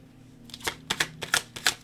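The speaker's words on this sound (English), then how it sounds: "I wasn't even supposed to still be shuffling this deck" A deck of cards being shuffled by hand, a few quick riffling bursts in a row, close and crisp with no talk.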